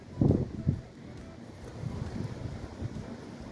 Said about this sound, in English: So you can hear the wind out here. It's pretty constant wind where we live up on a hill.